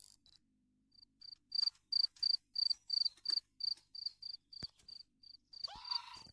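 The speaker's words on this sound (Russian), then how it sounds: "сверчок приходит на наше шоу" A single cricket chirps in a steady, evenly spaced series of shrill pulses, close and clear, with a brief rustle near the end.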